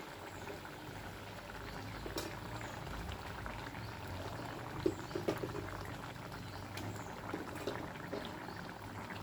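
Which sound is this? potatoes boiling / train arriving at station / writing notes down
potatoes boiling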